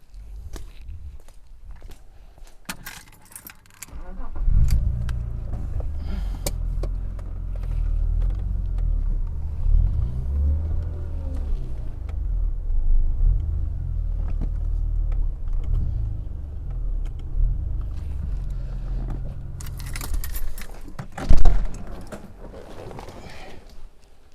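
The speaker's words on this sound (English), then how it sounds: "We're going to pull the car in." A BMW E36 is driven into a garage ahead of rain, its engine a low rumbling idle and gentle revs that build after a few seconds and persist at moderate loudness, mixed with footsteps and mechanical clunks.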